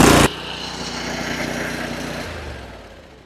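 A small engine on an S-Line water jetter, throttle set to full rev, fires up with a loud burst and settles into a steady, rapid high-revving drone that fades slightly toward the end, close to the microphone.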